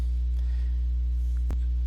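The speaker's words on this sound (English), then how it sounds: "This is the air conditioner unit that goes with the shelter." A fallout shelter's air conditioner unit drones with a steady low electrical hum, constant and unbroken throughout, with a faint click partway through.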